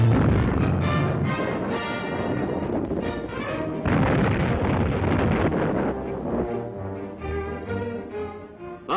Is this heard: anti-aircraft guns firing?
yes